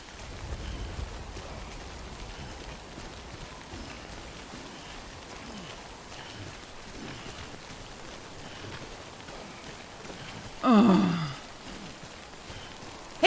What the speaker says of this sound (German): Jetzt bloß noch raus aus dem Regen.